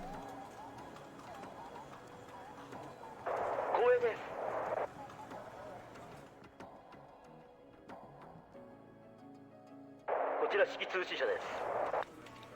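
Two loud bursts of airstrike explosions in the video game Wargame: Red Dragon, each roughly a second or two long and several seconds apart, rise above a low rumbling battlefield bed with a voice talking through it.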